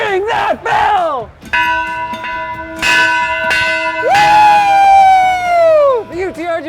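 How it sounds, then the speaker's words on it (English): A bell rings in loud, sustained metallic strikes that ring out and decay, accompanied by an excited shout and a long whooping cheer. "Ring that bell!"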